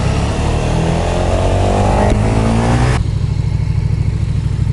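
A 2020 KTM Super Duke R being ridden along a dual carriageway, its engine loud and close with a rising pitch as it pulls, then the note drops sharply and settles into a steady lower drone.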